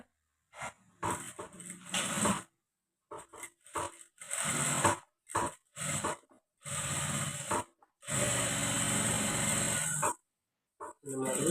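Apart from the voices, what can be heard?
sewing machine stitching a blouse slowly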